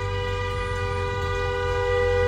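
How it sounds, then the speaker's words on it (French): A vehicle horn blares in one long, unbroken tone with a rich stack of harmonics over low road rumble, loud and steady throughout, with no talking. "Pourquoi il me klaxonne ce truc de merde?"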